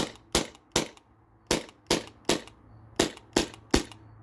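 A Sabre 68 home defense launcher with a First Strike Roscoe air adapter magazine is dry fired with the air valve off, giving nine sharp, loud pops at a fairly even rhythm.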